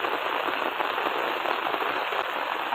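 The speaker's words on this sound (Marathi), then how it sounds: "बघाय किती मोठा पाऊस होतं" Dense, steady hiss of heavy rain pouring down as floodwater enters a house, loud and continuous with no pauses or voices.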